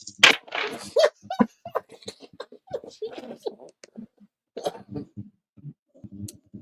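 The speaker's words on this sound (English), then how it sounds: "as y'all can still hear, I'm coughing" A man gives a rough, throaty cough up close, followed by mumbled talk and a few softer throat noises.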